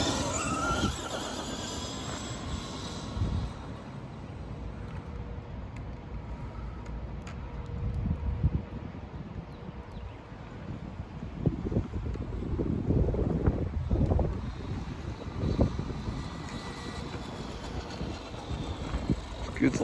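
A restored 1989 Traxxas Sledgehammer RC truck on a top speed run, a steady whirring motor and rolling tire noise with gusty wind across the microphone, building in the second half.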